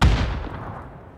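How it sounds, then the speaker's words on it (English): Grenade explosions in the shooter PUBG, a sharp heavy boom at the start with a low rumbling tail that decays over about a second, with no talking. "Someone's throwing nades"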